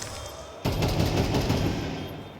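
Gunfire from a Counter-Strike match on the Ancient map at IEM Katowice 2024, a sudden dense burst of shots that starts loud and keeps going as a sustained rattle.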